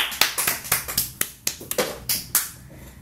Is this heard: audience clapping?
yes